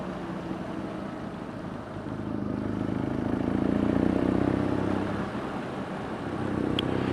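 A BMW R nineT Scrambler motorcycle riding on a wet, rainy road, a steady low engine drone mixed with tire spray and wind that swells slightly midway, with no one speaking.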